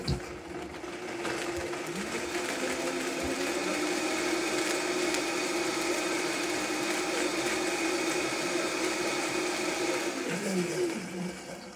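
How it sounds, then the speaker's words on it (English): A blender blending fruit for a raw peach pie runs steadily for about ten seconds, a continuous whirring motor hum with a slight shift in pitch near the end, no talking. "So I'm gonna blend this up real quick."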